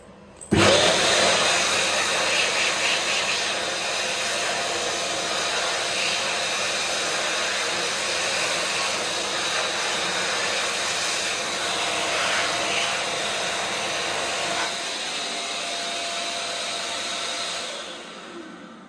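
A loud electric hand dryer in a Knockhatch toilet kicks in abruptly and roars steadily for about seventeen seconds with a constant blowing whine, close to the listener, shifts pitch slightly near the end, then cuts off.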